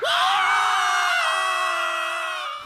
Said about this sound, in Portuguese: E tudo que pôde ser ouvido depois disso foram gritos.